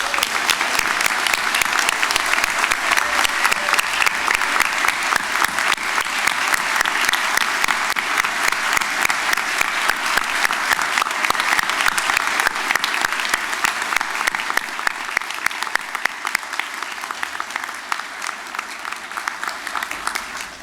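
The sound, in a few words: audience applause for the graduates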